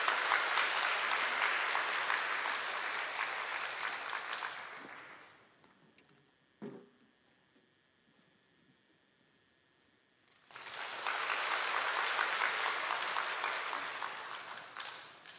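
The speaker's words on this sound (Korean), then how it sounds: "다시 한 번 더 큰 박수 부탁드립니다" A church congregation at a Sunday evening praise service breaks into loud applause that fades out, leaving several seconds of near silence with a single small knock, then swells into a second strong round of clapping.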